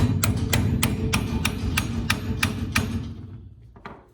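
Repeated hammer taps set a drilled and dropped front axle into a boxed Model A frame, about nine sharp, evenly spaced metallic strikes, close and loud, fading out near the end.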